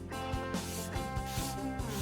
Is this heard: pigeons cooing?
no